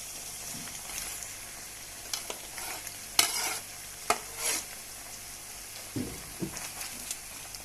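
Chopped onion going into a pan with about a kilogram of meat that has been cooking for an hour, a soft background sizzle broken by intermittent scrapes and clanks of a utensil stirring, close and quiet with no talk.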